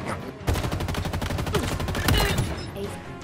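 Rapid automatic fire from an assault rifle in Halo Infinite, a steady stream of loud, evenly spaced shots running almost unbroken, with a few louder cracks near the middle.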